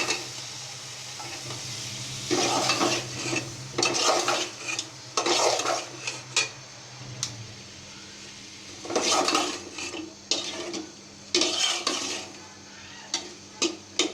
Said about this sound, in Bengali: আলু আর ডাঁটা একসাথে দিয়ে কিছুক্ষণ কষাবো।